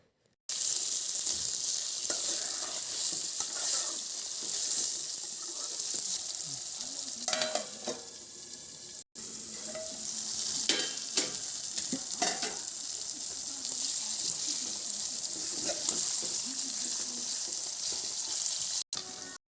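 Drumstick (moringa pod) pieces fry in a pan with a steady, close sizzle that lasts throughout. Occasional scraping from stirring rises above it, and there is no talk.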